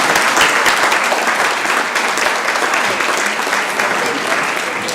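Loud, steady applause fills a city council meeting chamber, a dense crowd of clapping hands held at an even level from start to finish, close by and with no talk over it.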